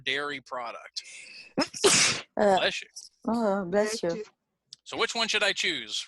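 A sneeze bursts out loudly near the two-second mark, a sharp noisy blast set between stretches of conversation in an English class chat.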